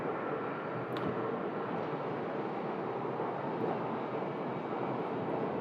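Airliners taxiing toward a corner gate at Phoenix Sky Harbor Airport give off a steady, distant jet-engine roar that holds even for the whole stretch, with no voices.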